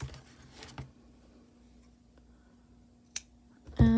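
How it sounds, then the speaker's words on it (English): Scissors cutting knitting yarn, a few quiet crisp snips spaced apart in a near-silent room, followed by a short louder rustle. "Cut your yarn,"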